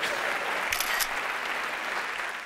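A comedy studio audience breaks into steady, dense applause that holds at an even level throughout, with a brief brighter burst of clapping and cheering near the start.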